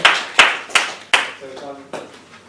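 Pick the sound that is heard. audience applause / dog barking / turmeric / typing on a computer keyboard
audience applause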